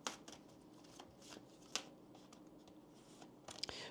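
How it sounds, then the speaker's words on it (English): Oracle and tarot cards being shuffled and pulled: soft, faint riffling and papery slides with a few sharper flicks, close and quiet, with no talking. "I'm going to start off by pulling some oracle cards, and then we're also going to pull some tarot cards for you."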